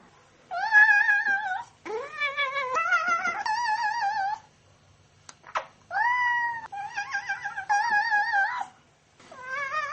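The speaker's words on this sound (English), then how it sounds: "A similar technique is used for a new form of artistic expression: cat yodeling." A cat yowls in long, wavering, pitch-bending cries, several drawn-out phrases with short pauses between, loud and close.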